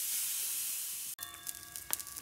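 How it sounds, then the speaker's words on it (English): Wild salmon hitting a very hot frying pan: a steady hiss gives way abruptly to crackling, spitting sizzle with faint tonal ringing, close up, no speech. "I'm just gonna fry it, pan fry it."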